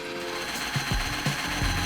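A cheap drill bores into a wooden beam, giving a steady rough whirring grind with rhythmic thumping pulses, close and loud, with no talk.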